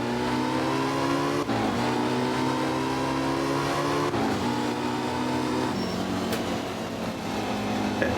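A Porsche engine pulls hard uphill, its loud, steady drone climbing in pitch through several gear changes, heard up close from inside the car with no talking.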